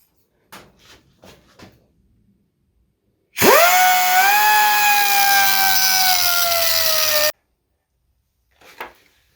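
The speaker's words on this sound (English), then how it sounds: "It was a grinder, but I put a cutoff wheel on it to kind of get the job done." An electric grinder fitted with a cutoff wheel cuts into a metal socket in one steady, loud, high-pitched whine lasting about four seconds, with faint handling noises before and after.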